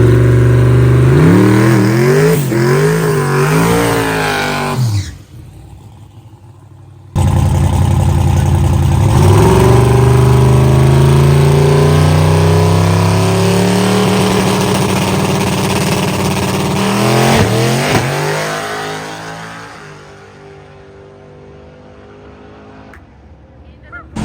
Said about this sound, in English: Last pass of the night tonight for testing for Terry.